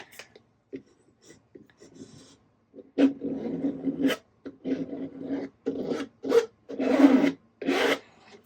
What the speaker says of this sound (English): I don't want to put too much pressure with the scraper on the flowers.